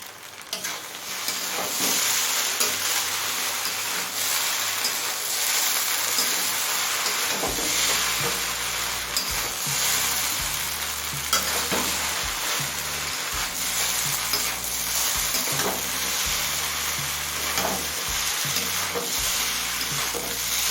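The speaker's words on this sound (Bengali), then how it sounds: "সব কিছু দেওয়ার পর আরও পাঁচ ছ মিনিট হাই ফ্লেমে নাড়াচাড়া করে নিয়েছি" Chicken mixed chow mein stir-fried hard over a high flame, with a steady loud sizzle and frying hiss, joined partway through by rhythmic scraping and tossing strokes in the pan.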